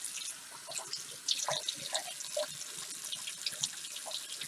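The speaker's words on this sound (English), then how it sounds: "I like using the little lip right here to like rinse them off really fast." Makeup brushes rinsed quickly under a running tap in a sink, a steady close hiss of flowing water with small splashes and drips, no voices.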